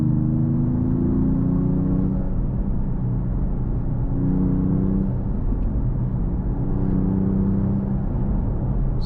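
A 2025 Mercedes E53 AMG hybrid six-cylinder pulls hard through the gears, a continuous loud engine drone heard from inside the cabin, rising in pitch and then dropping at each shift, with no talking.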